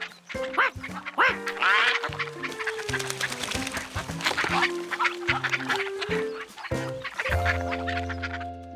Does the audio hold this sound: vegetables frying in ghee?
no